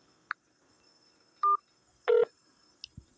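Telephone keypad tones sound on a voicemail menu, with a few short, separate DTMF beeps spaced across a quiet line and one longer double tone in the middle.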